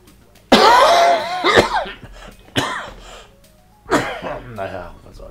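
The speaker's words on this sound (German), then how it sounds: "Husten, das geht nicht weg." A man coughs close to the microphone in several harsh, throaty bursts with short pauses between them, alone with no talk over it.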